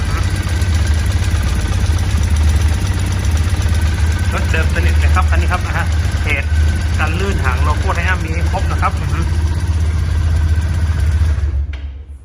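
A steady, low idle rumbles from a 2015 Triumph T100 motorcycle with its original engine and stock exhaust, with someone talking over it for several seconds before it cuts off at the end.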